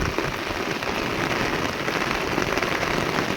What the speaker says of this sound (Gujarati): વરસાદ ઊણ તો ઘણો વરસી ગયો છે